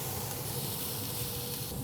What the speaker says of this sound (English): You're getting the fat sizzling right there on the grill grates.